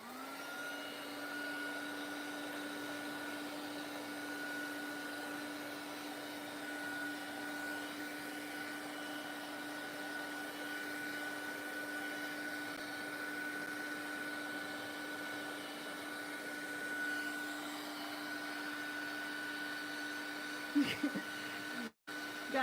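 Heat tool drying a craft journal page, giving a steady droning whir that holds evenly for about twenty seconds before a few clicks and a switch-off at the end.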